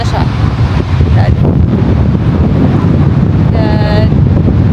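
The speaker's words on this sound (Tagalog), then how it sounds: "Ang hangin." Strong wind at Kamakura beach buffets the microphone in a loud, continuous low roar, with brief faint voices and a short tonal sound near the end.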